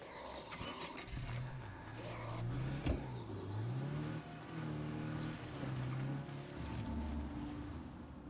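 A car drives in the video game State of Decay 2. Its engine revs and rises in pitch, then settles into a steady mid-pitched drone, with a thump partway through.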